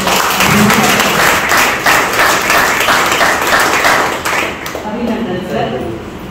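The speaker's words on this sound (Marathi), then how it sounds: "टाळ्या वाजवून" An audience claps in congratulation for a children's author receiving the Sahitya Akademi children's literature award, steady dense applause across the room that thins toward the end.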